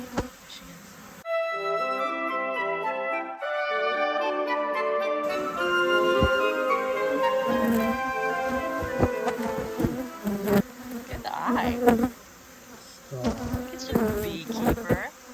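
Honeybees buzz steadily around an open hive as beekeepers inspect comb, a dense close hum with tonal whine layered over it and handling clicks and knocks throughout.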